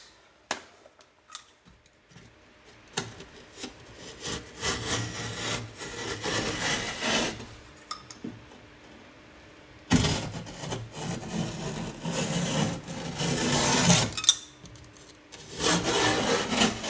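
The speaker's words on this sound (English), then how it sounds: "A new blade makes all the difference when you're cutting drywall." A new utility knife blade scores and cuts through drywall with repeated rasping, scraping strokes in uneven bursts and short pauses between them, close and moderately loud.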